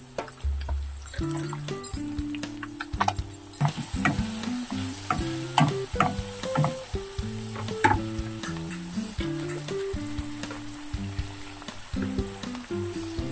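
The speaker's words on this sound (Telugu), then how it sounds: "ఇది కొంచెం లైట్గా ఫ్రై అవ్వాలండి." Chopped onions and green chillies frying in oil for egg fried rice, a steady sizzle under stirring and clinks, with background music playing throughout.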